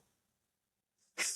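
After near silence, a brief intake of breath leads into one sharp, hissy sneeze burst at the very end, close by.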